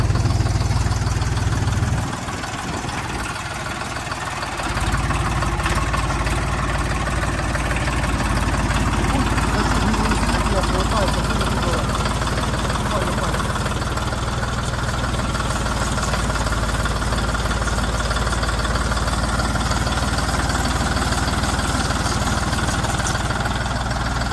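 Dongfeng 244 G2 minitractor engine running in first gear, a steady, smooth low chugging rumble close by, with a brief dip early on and a faint voice now and then.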